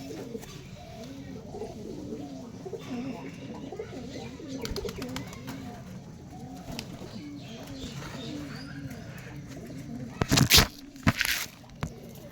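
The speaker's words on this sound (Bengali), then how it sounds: "একটা পায়রা বন্ধুরা" Soft, repeated pigeon coos pulse steadily at close range, with a few sharp rustling bursts near the end.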